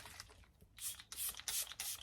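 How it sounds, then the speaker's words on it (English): Champagne-scented body spray hisses from an aerosol can in several short close bursts, four or so sprays in quick succession. "I'm gonna put a bit of champagne spray on because it's so stunning."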